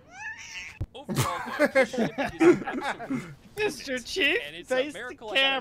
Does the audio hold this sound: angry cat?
yes